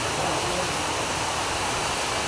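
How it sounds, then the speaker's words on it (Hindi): Water overflows from a small roof and spills over the edge. It makes a steady, dense rushing and splashing noise, close and continuous, with nothing else standing out. "छत छोटी है पानी इसका पूरा निकल के ऊपर आ रहा"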